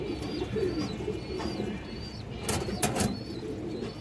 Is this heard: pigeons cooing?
yes